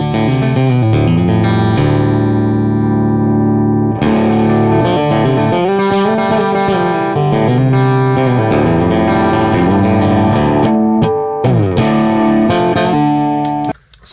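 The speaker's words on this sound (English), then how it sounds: "if you give it a little bit of a boost," Loud, driven electric guitar boosted with a Klon pedal into a Marshall amp, thick overdriven tone, sustained chords and quick note runs, close and continuous before cutting off.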